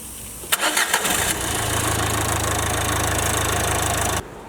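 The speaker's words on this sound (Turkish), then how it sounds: "Bas marşa." A car engine cranks with a few sharp clicks and a brief starter whir, then catches and settles into a steady mid-pitched idle for a few seconds before cutting off abruptly.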